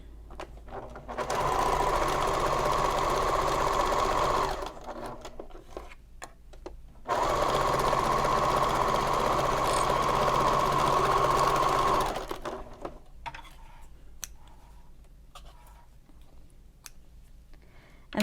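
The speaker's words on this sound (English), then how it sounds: "the other side, we're going to sew with a 5/8 seam allowance" A sewing machine runs in two long steady stitching bursts along a messenger bag seam at 5/8 inch allowance, with short pauses in between and then quiet handling afterward; a loud, close mechanical whir with no talking.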